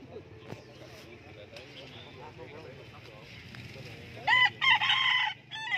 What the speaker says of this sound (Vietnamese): Đây có hai con gà rừng, một trống một mái.